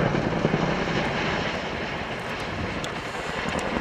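An RAF Chinook helicopter of 27 Squadron, RAF Odiham, flying a full air display, giving a loud, steady, broadband rotor and engine roar that holds constant throughout without speech.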